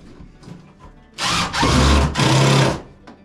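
A power drill drives a couple of toenail screws into wood, two loud close bursts of whirring separated by a brief pause, each lasting under a second.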